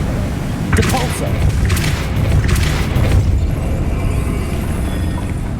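Depulso spell cast in the Hogwarts Legacy video game: several forceful whooshing bursts over a constant low rumbling game soundscape.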